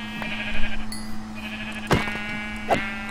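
Sheep in the video game Minecraft bleat in a few short, nasal calls spaced apart, loud and close over a low steady hum.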